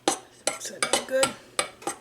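Almond flour and salt stirred in a bowl for crackers, a quick run of five or six sharp clinks and scrapes of a utensil against the dish, close and rhythmic.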